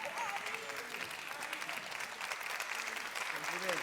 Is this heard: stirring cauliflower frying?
no